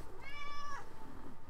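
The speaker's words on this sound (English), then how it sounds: "That's my cat, guys. Pudgy." A pet cat named Pudgy lets out one clear, drawn-out meow at close range, with a quiet room in the background and no talking.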